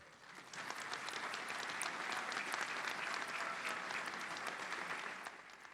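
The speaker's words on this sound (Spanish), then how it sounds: "la doctora Claudia Sheinbaum, a quien pido un fuerte aplauso." Sustained applause from an audience at a regional science and technology forum in Monterrey, a dense steady wash of clapping that swells in, holds loud for about five seconds, then fades.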